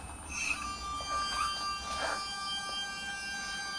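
An EQ8 telescope mount's motor slews with a quiet, steady high whine made of several thin pitched tones, faintly rising and falling, with no one talking.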